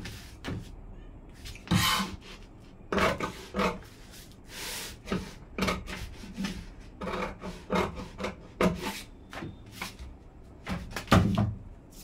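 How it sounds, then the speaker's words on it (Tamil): Scissors cut through blouse fabric while shaping a boat neck on a princess-cut blouse, a series of close, rasping snips and fabric scrapes in an uneven rhythm, with no talking. "இப்போ வந்து நம்ம கட்டிங் பண்ணிடலாம்."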